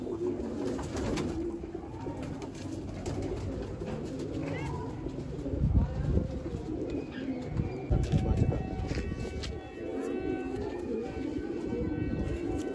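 Red Chinese pigeons coo steadily and close by, mixed with other bird calls and a low background rumble, with occasional voices talking nearby.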